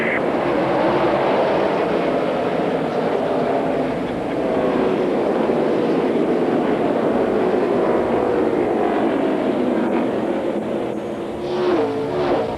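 NASCAR Busch Series race cars at the 2001 Kroger 200 at Indianapolis Raceway Park, racing on a restart late in the race, make a loud, continuous roar of several engines that swells and fades slightly throughout, with no voices.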